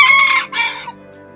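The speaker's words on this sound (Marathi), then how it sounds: "असे कोंबडे आहेत, इकडे पण काही आहेत." A rooster at a small backyard poultry farm gives one short, loud, close crow in two parts, which quickly fades away.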